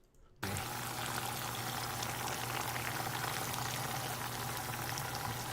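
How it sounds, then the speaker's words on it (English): Bacon frying in butter and grease, a loud, steady bubbling sizzle that starts abruptly after a brief quiet moment and continues evenly throughout. "You hear it bubbling."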